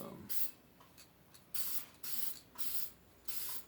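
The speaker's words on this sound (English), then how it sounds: "I'm just using clear paint as my sealer." Clear spray paint used as a sealer is sprayed onto a custom 20 oz tumbler in five short, sharp hissing bursts, fairly close and quiet, with brief pauses between them.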